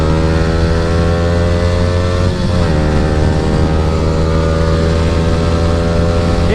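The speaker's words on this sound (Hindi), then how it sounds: "अब यहाँ पे थोड़ा सा बाइक को भगाते हैं।" An R15 V3 motorcycle fitted with an Akrapovic R9 exhaust accelerates on a morning road ride, its engine droning loudly and steadily with a brief dip in pitch partway through before pulling on.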